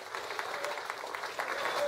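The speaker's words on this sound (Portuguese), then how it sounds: "Uma salva de palmas bem forte ao nosso proprietário e a todos vocês que colaboraram para este momento" Applause from a crowd at a supermarket reopening for the owner, a steady dense patter of clapping that holds throughout and swells slightly toward the end.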